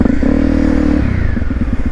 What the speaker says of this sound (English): There is quite a lot of engine braking on this little 250.